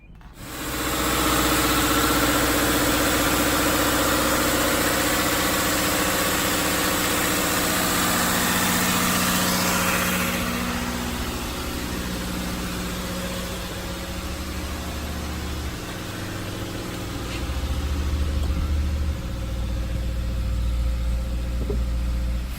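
A 2017 Subaru Crosstrek fitted with a Crawford Performance Eco-Block engine part cranks and starts, then settles into a steady, even idle that stays loud and close for about twenty seconds.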